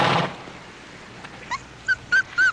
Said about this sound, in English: A puppy!